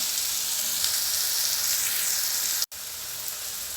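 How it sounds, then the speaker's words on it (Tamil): Vegetables for eggplant gosthu sautéing in a pan, a steady close sizzle with a brief dropout near the end. "இது நமக்கு நல்லா வதங்கட்டும்"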